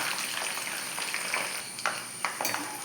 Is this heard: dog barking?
no